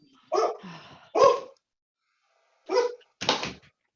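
Dogs bark in four short, sharp bursts during rough play, two close together, a pause, then two more, fairly close and clear.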